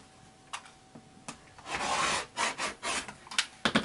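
Rotary cutter or blade slicing quilting fabric strips on a diagonal, a few soft scrapes and taps followed by a longer rasping cut and several short rubbing strokes, close and quiet.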